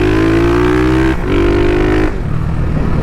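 A Yamaha XT660 motorcycle accelerates hard, its engine note climbing in pitch, dipping briefly at a gear change, then pulling again into a rougher roar, loud and close.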